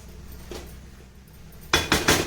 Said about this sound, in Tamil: இப்போ இதை நாம் மூடி வைக்கலாம்